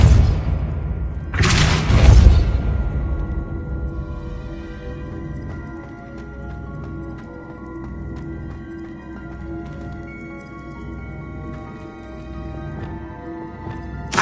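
A spell from Hogwarts Legacy hits with one loud whooshing burst and a heavy thud near the start. A long, fading hum and ringing tail follows, mostly alone with no talk.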